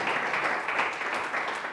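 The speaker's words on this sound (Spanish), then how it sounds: "démosle un aplauso al Señor a las 7 de la tarde" A church congregation applauds during a service, a short burst of full, even clapping from many people lasting under two seconds.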